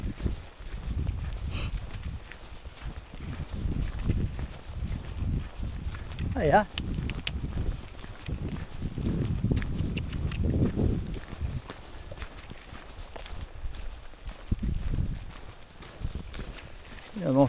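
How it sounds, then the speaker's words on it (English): Free-range horses walk along a trail on the Cape Wrath Trail in the Scottish Highlands, hooves thudding irregularly at close range amid outdoor rustle. A person speaks briefly over them. "Just free range horses."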